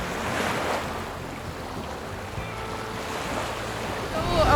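Ocean surf washing onto a beach in Sri Lanka, a steady broad wash of breaking waves with wind noise, swelling louder at the end.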